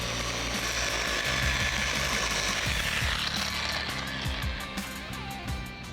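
Car polisher spinning at around 4,000 RPM, cutting clear coat with compound on a pad, a loud steady whir with rough grinding and rattling texture, close up with no speech.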